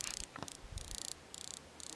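Faint, rapid clicking buzzes come in short repeated bursts from butterfly wings flapping at a distance in the Saskatchewan grasslands.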